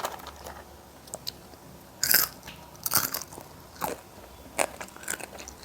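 Crispy, crunchy French fry pakoras are bitten and chewed up close: a loud crunching bite near the start, then several more crackly crunches and chewing spread out over quiet moments.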